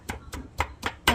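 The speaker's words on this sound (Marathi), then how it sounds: "लसूण आणि कोथिंबीर थोडीशी बारीक करून घेऊया" Knife chopping garlic and fresh coriander on a board, five distinct close thuds in a steady, slightly uneven rhythm, with no voices.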